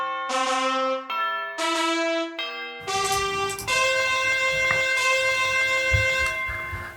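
A bright bell effect rings out in clear struck tones, first three separate chimes, then a fuller run of overlapping peals that keeps ringing steadily without any voices.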